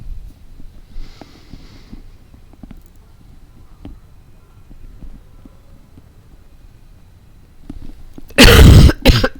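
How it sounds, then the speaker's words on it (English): A person with a cold coughs, a sudden loud, harsh burst near the end after a stretch of quiet background noise. "I say that and promptly start coughing."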